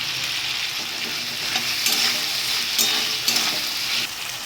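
Chopped tomato hits hot oil in a pan with lightly fried shrimp and bay leaves for a banana-flower shrimp ghonto, giving a steady close bright sizzle with a few louder stirring scrapes, no talking.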